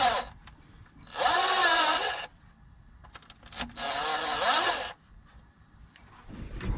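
An impact wrench zips off bolts from a car engine in two short bursts, each whirring up and down for about a second, close, with quiet shop clatter between.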